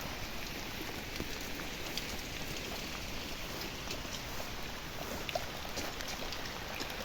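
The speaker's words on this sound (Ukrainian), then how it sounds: "Шелестить дощ, шелестить." Steady rain rustles softly outdoors, an even, faint wash of drops with a few scattered sharper patters and no voices.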